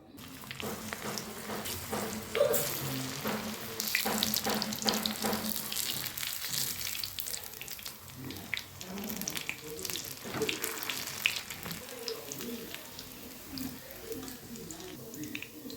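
Rolled bitter gourd spiral pakodas deep-fry in hot oil with a continuous bubbling sizzle and a few sharper crackles, heard close over about sixteen seconds.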